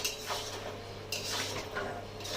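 Half-boiled fried potatoes being added to a pot of cooking chicken, several clattering metal-on-pot knocks and scrapes over a quiet, low background hum.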